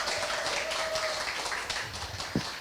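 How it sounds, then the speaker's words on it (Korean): An audience at a disaster-safety talk concert in Busan applauds to welcome a police forensic team leader to the stage, with a sustained, moderately loud spatter of clapping and a faint voice underneath. "힘찬 박수로 모시도록 하겠습니다"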